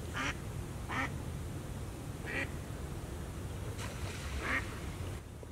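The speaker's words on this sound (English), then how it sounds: "Ducks just landed in the pond over there." Ducks on a backyard pond give a series of short, distant quacks, about five calls spread over several seconds, against a steady outdoor background hum.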